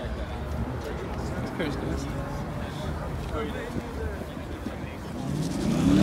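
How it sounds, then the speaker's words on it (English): A twin turbo V12 car engine rumbles and idles nearby at a cars and coffee meet in Buffalo, swelling louder toward the end as it revs, with background chatter from a crowd. "There you go, twin turbo V12. This thing is sick."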